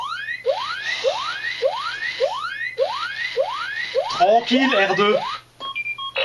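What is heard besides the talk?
Hasbro Smart R2-D2 toy robot alarm beeps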